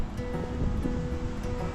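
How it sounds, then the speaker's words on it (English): Wind gusting across Ocean View Beach on Jekyll Island, a dense rushing roar mixed with surf, steady and close to the microphone. "The wind is blowing"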